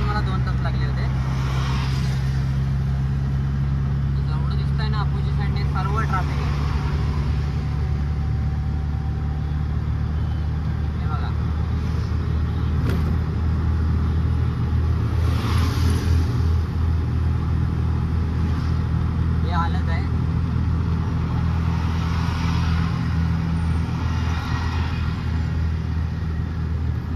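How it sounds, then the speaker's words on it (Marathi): Dense, heavy road traffic near Naigaon bridge, a constant loud low rumble of cars and trucks with engine drone and occasional horn-like tones, steady throughout, with voices faintly audible underneath. "एवढा मोठा ट्रॅफिक."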